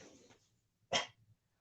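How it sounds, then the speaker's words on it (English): A single sharp dog bark rings out close by after a short stretch of low, muffled background noise, then fades into quiet. "He's barking now because he's after attention."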